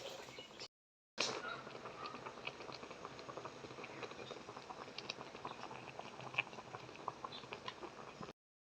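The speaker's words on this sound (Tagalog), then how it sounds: "kumukulo na siya." A pot of cassava tupig mixture boils quietly, giving a soft, steady crackle and patter of bubbles. The sound stays faint and continuous after a brief dropout near the start.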